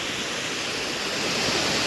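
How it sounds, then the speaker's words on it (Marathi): Waterfall near the Ekvira temple, a steady, dense roar of falling water that stays loud and unbroken throughout, with no voices over it. "मस्तपैकी धबधबा बघू शकता, तिथून पाणी डायरेक्ट इथे येतो."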